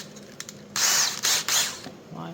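A 5mm drill bit bores out a broken stud on a Harley Dyna Springer chopper, with a loud, close whirring burst that runs about a second, stops briefly, then resumes twice more in short spurts.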